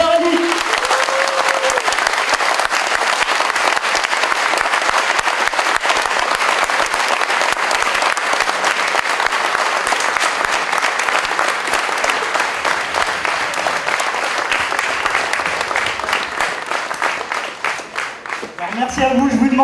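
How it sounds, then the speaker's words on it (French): Audience applause at an opening ceremony in Villejuif, France, a loud sustained burst of clapping from a large crowd lasting many seconds before tapering off at the end. "Je voudrais, s'il vous plaît, que vous fassiez un tonnerre d'applaudissements"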